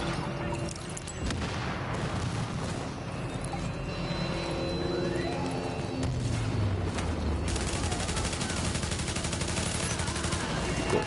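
Dense gunfire from Tom Clancy's The Division, with repeated shots and automatic bursts running continuously throughout, loud and busy, heavier toward the end.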